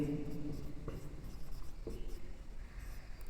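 A pen scratches on paper as maths working is written out in a classroom lesson, faint soft strokes with a couple of sharper taps, steady and close with no clear talk.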